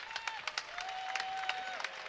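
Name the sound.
applause from the Oregon bench and fans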